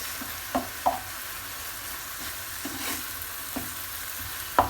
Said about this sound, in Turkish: Bir tatlı kaşığı kadar da tereyağı ilave ediyorum.